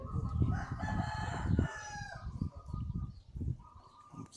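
A rooster crows in the deep Thai countryside, a loud harmonic call over the first second and a half, followed by softer clucks and farmyard noise.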